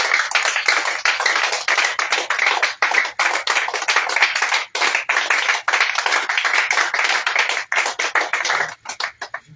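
A prayer congregation claps together in acclaim of the Lord, a dense, loud, steady stream of hand claps with fast rhythmic beats and brief gaps, with no talk over it.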